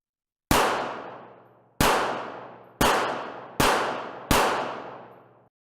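Five loud, close gunshots at target practice in a crime audio drama, evenly spaced about a second apart, each a sharp crack followed by a ringing decay, with no talking.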